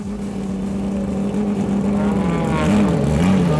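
A pack of race cars rolls off the grid at Zolder circuit, a steady engine drone whose pitch wavers and rises slightly as the field pulls away, with no voice.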